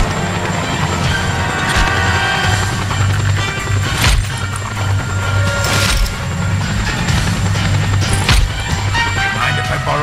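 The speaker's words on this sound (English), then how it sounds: "That helicopter will tear us to pieces!" A helicopter in the video game Just Cause 2 drones loudly and continuously, with a steady rotor and engine roar and occasional sharp game impacts layered over it.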